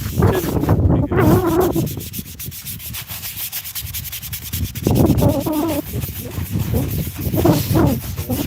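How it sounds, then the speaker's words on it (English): Stiff brush scrubbing a granite veterans' headstone coated with algae, steady close rasping strokes in a continuous rhythm with a brief lull midway. "So we'll scrub it, we'll let it sit, and then we'll rinse it."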